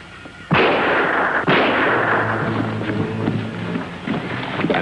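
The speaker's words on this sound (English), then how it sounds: "That shot came from over there." A single gunshot rings out nearby with a sharp crack and a long rolling echo, followed by a second report and a fading outdoor tail.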